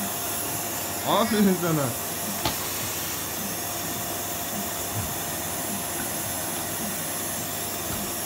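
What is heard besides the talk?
real electric vacuum cleaner used by a child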